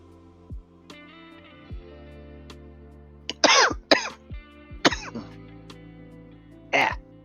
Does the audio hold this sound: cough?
yes